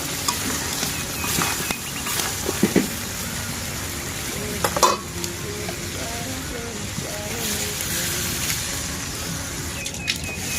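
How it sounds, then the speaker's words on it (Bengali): Chicken and potatoes cooking in a pan with broth just poured in, a steady broad sizzle and stirring scrapes running throughout, with a few louder clatters near the middle; no speech. "এই যে এখানে ঝোল দিয়ে দিয়েছি,"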